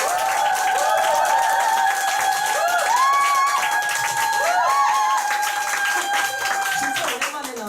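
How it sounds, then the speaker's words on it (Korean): Applause from a business meeting audience welcoming a speaker to the front, sustained clapping under a continuous sustained music or tonal backing with melodic lines, fairly loud and steady for several seconds before easing near the end. "큰 박수 부탁드립니다."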